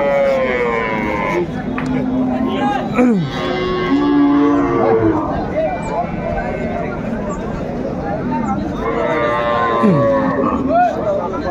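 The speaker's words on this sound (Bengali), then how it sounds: "সুন্দর গাভী বাছুর আমরা দেখছিলাম" Cows and calves moo repeatedly, long drawn-out lowing calls rising and falling, with a busy crowd murmuring in the background at a cattle market.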